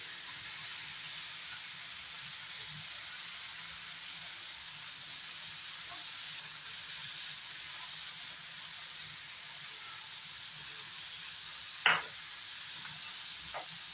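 Okra (bhindi) frying in a pan with a sprinkling of rice flour gives a steady, even sizzle and hiss throughout, with one brief clink of a utensil near the end and no talking.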